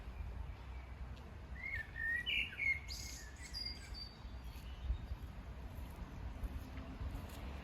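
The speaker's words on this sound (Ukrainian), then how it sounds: "Сподіваюсь, ви чули, як співають пташки." Birds chirp and trill in short bursts at a moderate distance beside the Murmelbach stream in Wuppertal, with insects buzzing softly and a low outdoor rumble underneath.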